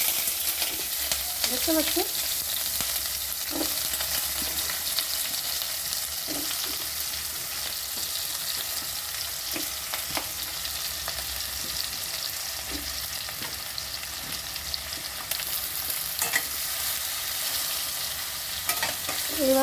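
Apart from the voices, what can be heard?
green chillies and eggplant frying and being stirred in a pan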